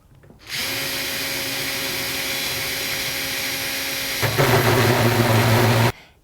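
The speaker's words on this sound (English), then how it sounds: "The next step is to drill a 54 millimeter hole at the mark on the door." Power drill boring a 54 millimeter hole in a door, a loud steady whine that starts abruptly, deepens into heavier grinding as the bit bites in, then stops sharply after about five seconds.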